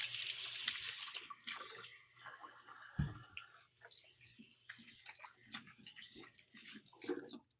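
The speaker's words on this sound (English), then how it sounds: "I'm going to go wash my hands." Tap water running into a kitchen sink while hands are washed, a loud rushing start that drops into softer, uneven splashing and rubbing with a sharp knock midway, nearby and without talk.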